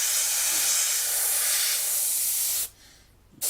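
Airbrush blasting paint out onto a spare surface to clear a clogged needle during a 1/48 F-4B Phantom model build, a steady close hiss that cuts off briefly near the end and then starts again.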